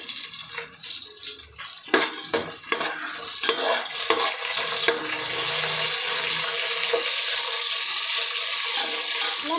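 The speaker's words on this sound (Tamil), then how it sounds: "இப்போ நம்ம கருவேப்பிலை ஆட் பண்ணிக்கலாம்." Curry leaves and green chillies hit frying onions in a hot pan, giving a steady bright sizzle broken by a few sharp crackles and pops early on, with stirring noise throughout and no voices.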